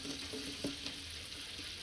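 Spices with salt and turmeric fry in a pan with a steady, faint sizzle, broken by a couple of soft stirring knocks.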